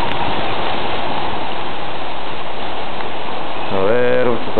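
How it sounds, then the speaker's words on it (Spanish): Hail falling on Christmas Day in Lancaster, a dense steady hiss of pelting ice throughout, with a voice speaking briefly near the end. "estamos grabando la granizada que está cayendo el 25 de diciembre."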